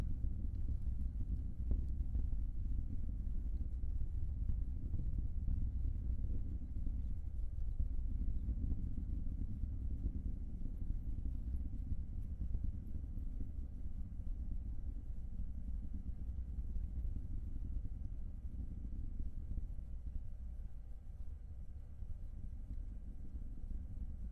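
Low, distant rumble from a SpaceX Falcon 9 launching a Starlink mission, a faint continuous roar sustained at a steady level throughout, with no talk.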